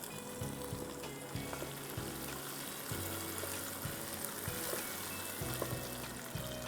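Blended boiled onion paste sizzles in a pan with ginger and garlic, a steady frying hiss broken by repeated low scraping and knocking from stirring, close and fairly loud throughout.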